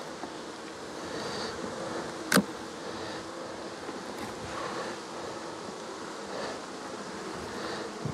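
Honey bees buzz steadily around a heavy, capped hive frame full of syrup, a close, continuous hum with one brief louder pass as a bee flies near.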